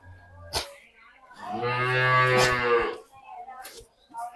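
A single long, low moo from a dairy cow nearby, loud and drawn out over about a second and a half, with brief rustles before and after.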